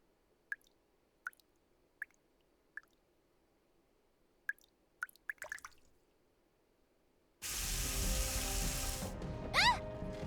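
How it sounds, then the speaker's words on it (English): Water drips from the ceiling in the video game Nikke x Stellar Blade, about eight sharp drops falling at an uneven pace in a quiet room, followed by a sudden loud rush of sound that swells briefly. "Water's coming from the ceiling!"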